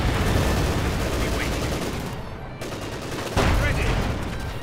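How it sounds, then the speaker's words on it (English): In the Company of Heroes 2 video game, a field gun fires on a Panzer IV tank, producing dense, rumbling battle gunfire and explosions with a sharp blast partway through, while a commentator talks over the din. "Panzer IV coming under fire there from the field gun."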